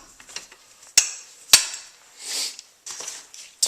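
Metal legs of an M60 machine gun tripod mount being folded closed, sharp clanks and clicks at irregular intervals with a scraping slide in between, close by.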